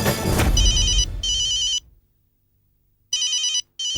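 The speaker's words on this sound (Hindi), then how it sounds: "बागा का फोन?" A telephone rings in loud electronic bursts, stops for over a second, then rings again twice; no one speaks.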